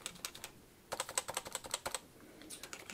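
Colon key tapped repeatedly on an HHKB Pro Hybrid Topre keyboard, quiet soft clacks in short bursts, close and alone.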